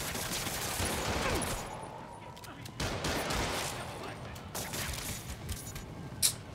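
Rapid bursts of gunfire in Marvel's Spider-Man Remastered, a dense fusillade of shots and thuds over several seconds with a sharper crack near the end, layered with game noise and voices.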